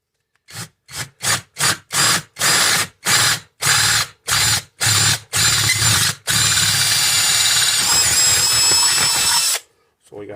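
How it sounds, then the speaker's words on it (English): A power drill with a 3/8 bit boring out a broken muffler bolt on a Toro single-stage snow blower, starting in short repeated bursts and then running in one continuous whine for several seconds, loud and close. "we're going to take a 3/8 drill bit"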